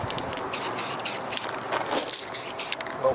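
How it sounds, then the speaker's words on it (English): Rust-Oleum Painter's Touch spray paint hisses from the can onto a dirt modified race car part in a run of short, bright bursts with brief gaps between them, close to the listener. "You could like put some spray paint or something."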